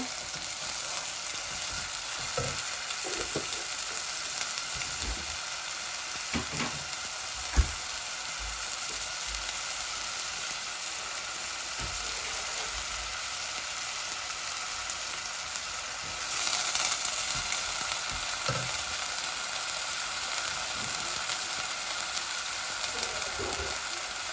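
Fresh ginger and garlic frying in a pan with a dense, continuous sizzle, occasional stirring scrapes and a short louder burst near the end.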